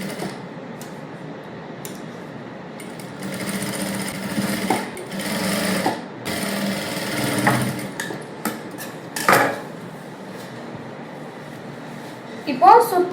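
A sewing machine stitches the lining of a princess-cut blouse in short, repeated bursts of rapid stitching with pauses between, while someone talks throughout.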